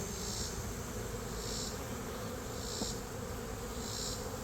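A dense, steady hum of many honey bees buzzing close by at an opened hive during a varroa mite check, with faint periodic chirps of insects in the background.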